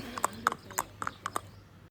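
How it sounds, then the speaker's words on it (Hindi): Horses' hooves clip-clop on a trek, with a handful of sharp, irregularly spaced hoof strikes heard faintly and alone. "और अब हमारे घोड़े आ चुके थे"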